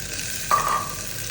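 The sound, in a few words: stirring lentils in pan with bay leaf and dried chilli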